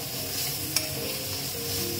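Banana stem (thor) stir-fried in a pan with salt, a steady close sizzle with a spatula scraping through it and one sharp tap; no talking.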